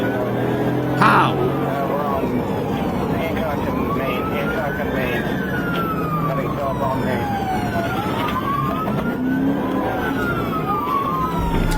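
Video game police sirens wail and sweep up and down over a rumbling car engine, several overlapping, with voices talking underneath throughout.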